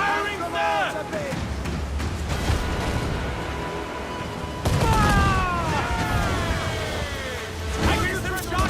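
Naval cannon fire in Assassin's Creed IV Black Flag, heavy booming shots and rumbling blasts from a sailing warship in a sea battle, loud and close, mixed with shouting crew voices, music and whistling projectiles.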